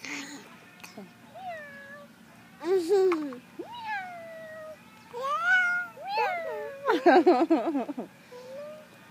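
A cat meows again and again, drawn-out rising and falling calls with short pauses between them, heard close by.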